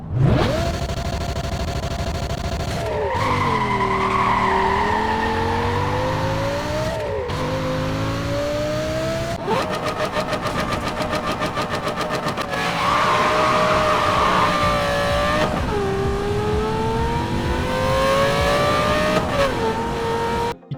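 Engine notes from Need for Speed Most Wanted cars, loud and continuous, with repeated revving climbs, gear-shift drops and sustained high-pitched whine across a string of successive cars, with no talk.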